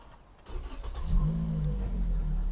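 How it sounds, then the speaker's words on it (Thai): A Toyota Corolla Altis 1.6 G with a 1.6-litre engine cranks briefly and catches, then settles into a steady, close idle that runs to the end without talk. "ผมจะขออนุญาตลองสตาร์ทเครื่องให้ได้ฟังเสียงเครื่องยนต์กัน"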